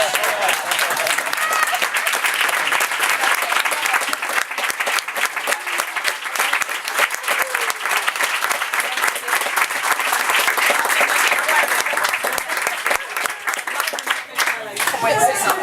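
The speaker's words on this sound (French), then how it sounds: "je voudrais qu'on se lève tous pour l'applaudir" An audience rises for a standing ovation, a loud sustained wave of dense clapping lasting the whole stretch with some speech and crowd noise mixed in.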